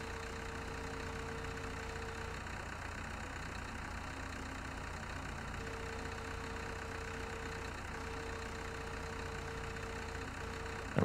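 A tractor engine in the Farming Simulator 17 video game runs at a steady, quiet idle. The low drone continues unchanged throughout, with faint tonal whines above it and no voices.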